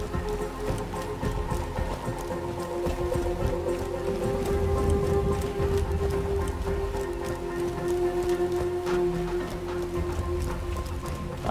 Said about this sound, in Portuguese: Tá chovendo até.